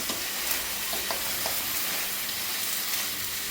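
Steady, dense sizzling of mutton frying in hot oil, close by, with faint clinks of stirring and no talking.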